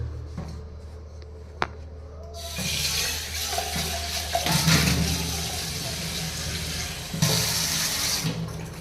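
Water runs steadily from a tap into a container close to the microphone, a continuous broadband rush with a brief surge near the end, after a few faint clicks.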